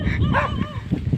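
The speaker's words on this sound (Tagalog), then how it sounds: "Dito po ang aming bisitang aso." A dog gives a brief yipping, whimpery bark, close and fairly loud, lasting about a second.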